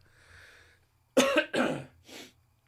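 A person coughs a few times in quick succession, close and loud, after a quiet, faint murmur.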